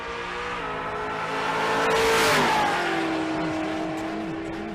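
A 2015 Ford Mustang on a drag strip, its engine roaring and building in pitch as it approaches and passes close by, then dropping away into a lower drone.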